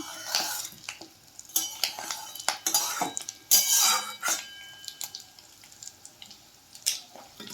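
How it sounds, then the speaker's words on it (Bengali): Fish roe frying over a low gas flame is turned with a metal utensil, giving a run of close clinks, scrapes and clatters against the pan in an irregular rhythm. "এদিকে মাছের ডিম উল্টে নিচ্ছি"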